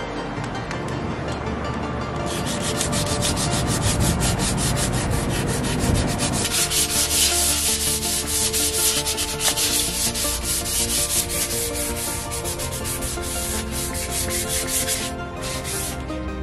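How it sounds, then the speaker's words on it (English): Teak wood steps on a sailboat are hand sanded with 80 grit sandpaper, a close, loud, continuous rhythmic scratching of rapid back-and-forth strokes that runs steadily throughout. "I'm going to hit that with some 80 grit sandpaper and then go back over it with the 400 grit"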